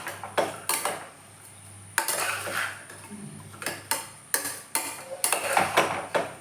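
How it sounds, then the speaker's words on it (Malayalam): Soaked green peas sautéed in a pot for veg biryani, with a spoon clanking and scraping against the metal in uneven bursts over a low sizzle, close and fairly loud with no speech. "ഈ ഗ്രീൻ പീസ് ഞാൻ പുതിർത്ത് വെച്ചാണ് ഞാൻ അതും കൂടെ ഇതിലേക്ക് ഇടുകയാണേ ഇതൊന്ന് ജസ്റ്റ് ഒന്ന് വഴറ്റിയെടുക്കാം"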